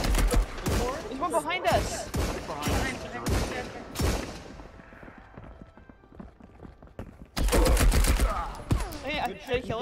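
Rapid gunfire in the multiplayer shooter Marauders, dense bursts of shots close by, broken by a quieter gap before another loud volley, with players talking and shouting over the fire.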